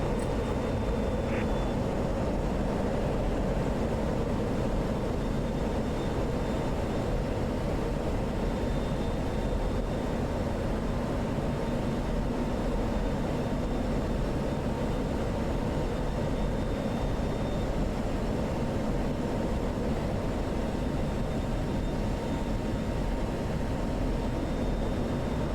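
An F-16 jet engine taxiing in the flight simulator DCS, a steady loud turbine roar and whine holding constant throughout with no talk.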